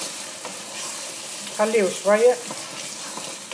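Garlic cloves sizzle in a frying pan for a lamb-based nwasser mfawra dish, giving a low, steady frying hiss, while a voice speaks briefly over it.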